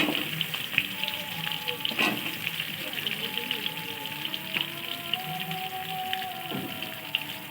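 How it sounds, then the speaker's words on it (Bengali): Potatoes frying in hot oil in a home kitchen, after pointed gourd was fried in the same oil: a steady, moderately loud sizzle and crackle with occasional pops and spatters, no talking. "এবার ওই তেলে বন্ধুরা আলু দিয়ে দেবেন। আলুটাও ভেজে নিতে হবে ভালো করে পটলের মতো।"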